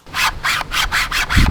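Six quick scratchy rasps in a steady rhythm, loud and close, a string-powered Nerf pistol being primed, the cord dragging through plastic, ending with a dull thump.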